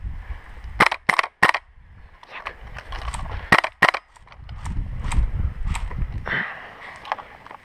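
Airsoft gunfire from a G36C gas blowback rifle outdoors during a game. Sharp, snappy cracks come singly and in short clusters, spread between rustling and scuffing movement.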